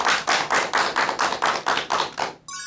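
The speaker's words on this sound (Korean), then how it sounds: "여러분 큰 박수 부탁드립니다." A lecture audience claps in steady unison, about nine even, rhythmic claps close and clear, ending abruptly after under three seconds.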